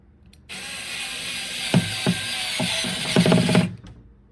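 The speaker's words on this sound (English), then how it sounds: "they'll be held in with 1/4 inch wood screws" A driver turning 1/4 inch wood screws into the handles of a Ms. Pac-Man arcade cabinet under restoration, with a steady close whir broken by several sharp ratcheting clicks near the end.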